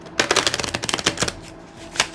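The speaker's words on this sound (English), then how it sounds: "They're small, they're a little hard to shuffle." Small cards are riffle-shuffled up close, a quick burst of crisp ticking flutters followed by a pause and a single softer snap.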